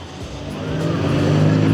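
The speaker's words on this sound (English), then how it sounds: "Now going in reverse while the other two chase him around the arena." A Mini's engine revs and whines rising in pitch as it drives in reverse around an arena close by, with faint tire noise underneath.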